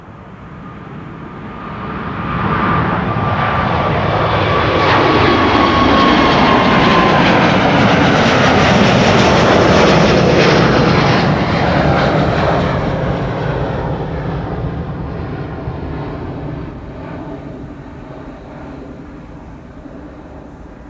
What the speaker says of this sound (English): And Delta Airlines, another A350 to Atlanta, flight 73, just now took to the sky.